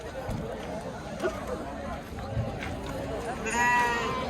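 A fighter lamb bleats at a crowded sheep market, one clear bleat near the end rising above steady background chatter and the bustle of livestock and people talking.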